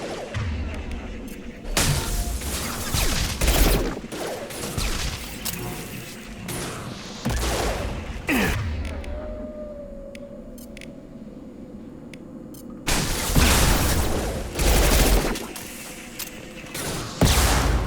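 Submachine gun fire in Mass Effect 2, heard as repeated bursts of sharp crackling shots and impacts in separate volleys over game ambience, with a quieter stretch in the middle and no talking.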